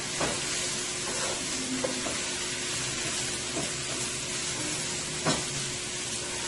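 Eggplant and potatoes fry in oil with sauce, giving a steady close sizzle with a hissing crackle throughout and occasional light clicks from stirring.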